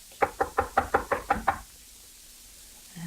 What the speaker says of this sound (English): Here's his room. I'll knock.